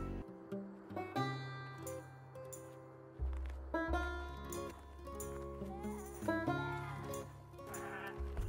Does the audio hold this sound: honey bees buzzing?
no